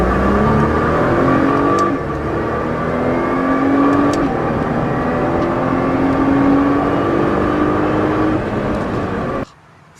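A Ferrari 458 Italia accelerates hard, its engine a loud, close roar climbing in pitch through the gears for about nine seconds before cutting off abruptly.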